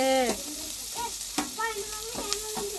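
Green chillies sauté in a pan over an outdoor village fire, giving a continuous bright sizzle. A person talks over it.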